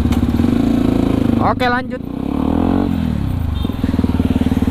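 Motorcycle engine running steadily while riding, loud and close, with a brief dip in revs midway; someone speaks over it at one point.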